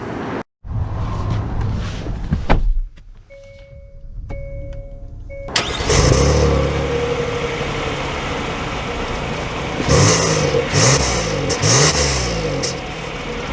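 A 2024 Hyundai Palisade SEL with the premium package starts up with a door-chime-like tone, then its engine fires and idles before revving and pulling away, with gear-shift swells in the engine note, close and fairly loud.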